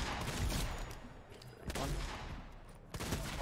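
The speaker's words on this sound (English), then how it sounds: "who is shooting at me?" Gunfire in the game Fortnite: rapid, distant bursts of shots crackle over a noisy background, with a few sharper cracks standing out.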